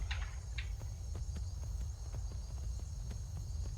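Horse hooves clip-clopping in the Skyrim video game, a steady run of light, soft hoof thuds over a constant low ambient hum, fairly faint and even.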